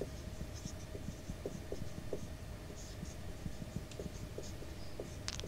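Pen writing a ratio during a class 10 maths lesson on ratio and proportion, a steady run of close scratchy strokes with short taps, alone and without talk.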